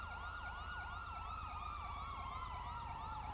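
Ambulance siren wailing in GTA V, a rapid repeating up-and-down yelp over low road rumble, steady and fairly faint as if from a short distance.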